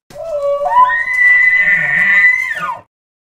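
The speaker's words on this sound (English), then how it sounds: "Elk." Elk bugling: one long, clear call that rises in pitch and holds a high whistling tone for over two seconds before dropping off, close and alone.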